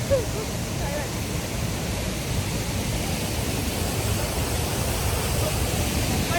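Bridal Veil waterfall in Canada pours with a steady, even roar of rushing water that fills the whole stretch without a break.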